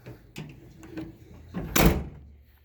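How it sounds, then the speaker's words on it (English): Tailgate on a 2020 Toyota Tundra TRD Pro swinging shut with a few light rattles, then one loud, close metallic slam and a brief fading rumble. "So here's what it looks like when you close the gate, the tailgate on the Tundra."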